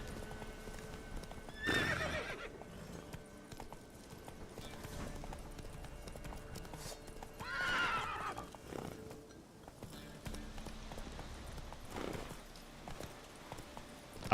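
Hooves of the horse Roach in The Witcher 3: Wild Hunt clop steadily, with two loud neighs and a snort standing out over faint background ambience.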